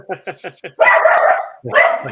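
A puppy yapping: a rapid run of five short yips, then two longer, louder barks, close to the microphone.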